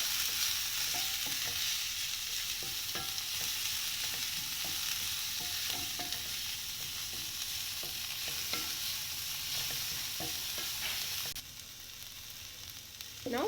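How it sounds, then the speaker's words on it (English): Grated carrot and green peas are stirred into an oats mix in a hot pan, giving a continuous soft sizzle with scraping strokes of the spoon, steady and close, with no talking. "Giving it a good mix."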